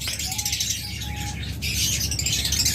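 A pair of violet-winged pet birds chirping close by, with thin tweets and a short whistled note over a steady, noisy background.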